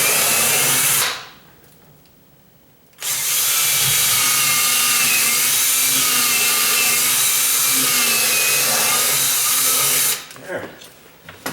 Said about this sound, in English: because I've got the impact drill, it'll go da da da da da da da da